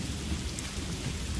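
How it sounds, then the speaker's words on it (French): Steady heavy rain with a low thunder rumble fills the whole stretch at constant loudness during a thunderstorm in the survival game The Forest, with no voices over it. "Ah, là, il va pleuvoir."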